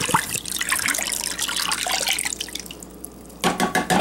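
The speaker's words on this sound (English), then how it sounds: "I will just fill up my can with water." Tap water runs into an emptied sauce can, a steady splashing trickle and drip filling the tin, with a brief pause before a louder rush of flow near the end.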